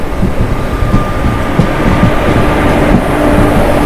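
The Bangalore–Mangaluru Express runs on the Konkan Railway line in heavy monsoon rain, a loud steady rumble of wheels and carriages with rhythmic clacks and a faint whistle-like tone, heard close and continuous.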